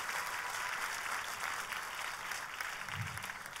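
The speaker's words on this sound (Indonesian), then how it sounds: "Kita berikan tepuk tangan yang paling meriah" Lively applause from a church congregation during a sermon, a continuous, fairly loud patter of many hands clapping that stays steady throughout, with a brief low thump near the end.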